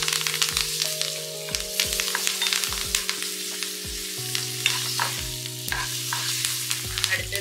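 Dried red chillies and curry leaves crackle and sizzle in hot oil, a close, busy frying sound with sharp pops, set against steady background music.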